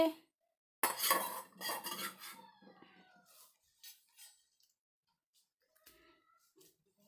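Small metal utensils clink and scrape against a tiny toy pan in a play kitchen on a rooftop, a busy burst of clatter at first, then sparse faint taps.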